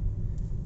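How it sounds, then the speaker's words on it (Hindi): Road traffic in Gurgaon: a steady, low engine rumble from nearby cars in a jam, continuous and even throughout with no voices. "रास्ते में कितना ट्रैफिक है, देख रहे हो"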